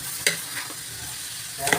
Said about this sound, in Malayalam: അപ്പോൾ ചിക്കൻ ഇട്ട് ഇനി നന്നായിട്ട് ഇളക്കി കൊടുക്കും